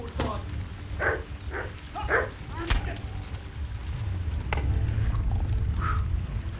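A dog in the video game Kingdom Come yips and barks in a quick series of short, fairly close calls, then falls quieter under ongoing game ambience while someone talks.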